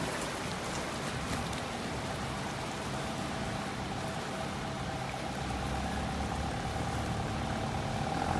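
Steady rain hisses continuously in the UAE, with a low engine-like rumble underneath and no voices.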